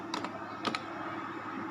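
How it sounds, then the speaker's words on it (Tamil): A few quick keystrokes on a computer keyboard as a Python run command is typed in a lab, two short clusters of clicks close by over a steady background hiss. "இப்போ என்ட்ரி கீ ப்ரெஸ் பண்ணுங்கள்."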